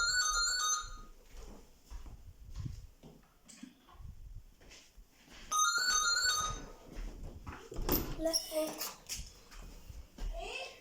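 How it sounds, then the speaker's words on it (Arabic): A home landline telephone rings in a kitchen in repeated electronic bursts, with a voice and household clatter around it and louder clunks and splashing toward the end. "كان تليفون البيت بيرن"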